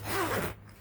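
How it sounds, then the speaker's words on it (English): A single quick zipper pull, a short rasping zip lasting under a second, close and fairly quiet. "Once again, the zippers seem"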